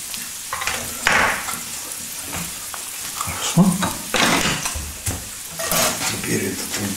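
Food frying in a pan during a simple home-cooked Russian meal, a steady close sizzle with scraping and stirring noises and occasional utensil clinks.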